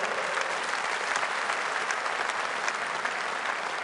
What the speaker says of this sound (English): Give Richard a round of applause.